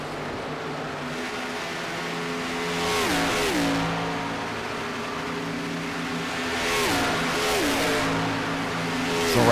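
Race cars in a racing video game roar down the back straight at Pocono, a steady, loud engine drone whose pitch climbs and drops with gear shifts and passing cars, with no voices.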